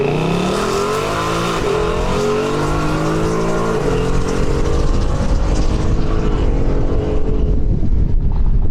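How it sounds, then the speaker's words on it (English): Drag race car launching off the line at a rental drag strip, a loud close engine roar with rising revs through gear changes, fading slightly as the car pulls away down the track, no talking. "Then it's going to go green and Jim will be off and down the track."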